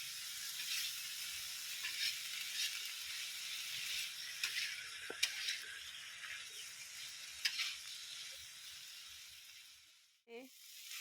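Breadfruit sambal goreng cooking in a pan gives off a soft, continuous sizzle with occasional stirring scrapes and light clatter, fading out near the end before a brief clink.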